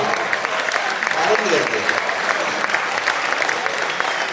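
Dense, steady applause from the audience at an all-India Hindi poetry recital, filling the hall throughout, with a voice speaking briefly over it.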